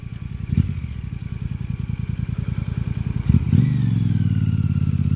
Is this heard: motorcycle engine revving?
yes